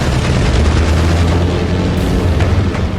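Bomb explosions in a war film scene set around a warship under air attack, a continuous heavy rumbling boom with dense low-end roar and scattered bursts, loud throughout with no speech.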